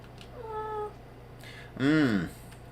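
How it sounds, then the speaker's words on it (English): A little kitten on a chair gives two meows, a thin high one and then a louder, drawn-out cry, close by against a low steady hum. "A little kitten on the chair,"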